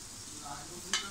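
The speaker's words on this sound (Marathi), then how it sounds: "सुकं खोबरं सुद्धा आपल्याला थोडंसं परतून घ्यायचं आहे." Dried coconut is stirred as it fries in a pan, a soft even sizzle with a single sharp scrape just before the end.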